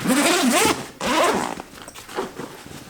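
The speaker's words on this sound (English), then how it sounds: "just find the zip." A camera bag zipper being unzipped in two close, loud rasping pulls, the second starting right after a short break, then fading into softer handling noise.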